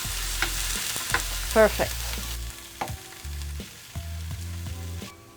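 Tofu fries in a skillet with a steady, close sizzle over soft background music. A voice briefly speaks.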